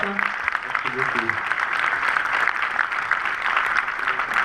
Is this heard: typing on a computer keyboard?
no